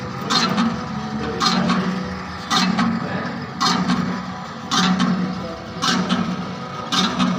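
Mechanical rattling and clanking from a running 20-litre mixer tank holding a 5 kg batch of hand wash, with a steady motor hum and regular bursts of metallic knocking about every second.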